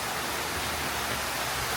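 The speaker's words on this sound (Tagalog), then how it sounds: "water filtration system" A home water filtration system runs with a steady, loud rushing hiss of flowing water, constant and unbroken, with no voices.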